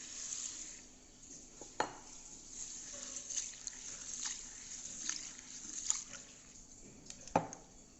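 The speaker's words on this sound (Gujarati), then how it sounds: "બંને દાળોને મિક્સ કરી અને 2 વખત પાણીથી વોશ કરી" Soaked urad dal mixed with another dal being washed in water in a pot, with soft sloshing and trickling punctuated by a few sharp clinks against the vessel, close and fairly quiet, no talking.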